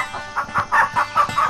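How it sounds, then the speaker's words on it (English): Hens cluck close by in a quick, regular run of about six short clucks, each a clipped burst with no talking over them. "The hens clucked."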